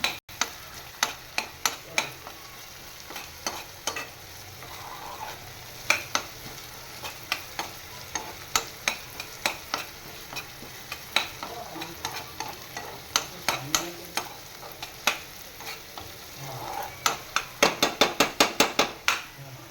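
Onions frying for pav bhaji are stirred constantly in a pan, a spoon clacking sharply against the metal in irregular strokes that quicken near the end, over a low sizzle.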